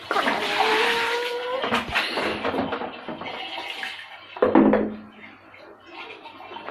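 Water is poured over a football boot to wash it, splashing and gurgling steadily at close range for several seconds, with a louder splash near the end.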